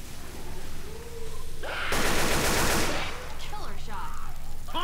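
Gunfire in the zombie co-op shooter Left 4 Dead, a loud sustained burst of rapid shots lasting about a second, with voices and game sounds around it.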